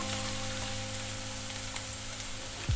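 Garlic frying in oil on high heat for fried rice makes a dense, even sizzle with a low hum underneath, and near the end there is a brief louder clatter.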